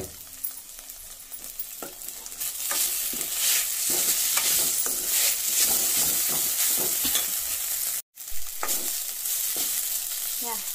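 Mushroom Manchurian sizzles and fries in a pan with chili powder added, steady crackling under repeated scraping stirs close by, with a brief gap near the end before the stirring resumes.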